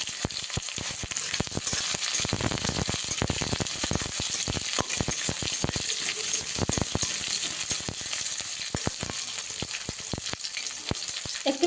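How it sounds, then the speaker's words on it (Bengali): Nigella seeds, chopped onion, garlic cloves and split green chilies frying in hot oil, a dense continuous crackling sizzle with many tiny pops throughout, close and steady, no voices. "তেলের মধ্যে কালো জিরে ফোড়ন দিয়ে দেবো"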